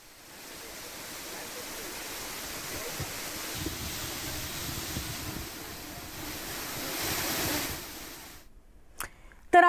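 Ladghar Chandranagar waterfall roaring as a broad, steady rush of falling water, swelling slightly before cutting off near the end.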